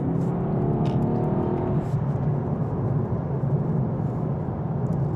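A Mercedes-AMG S 63 E-Performance accelerates, heard from inside as a steady low whir and road rumble that builds smoothly, with light cabin noises and no talk.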